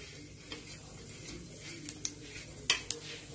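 Cumin seeds sizzle steadily in hot mustard oil with crushed ginger and garlic, a soft continuous frying hiss broken by a few faint pops and light utensil clinks.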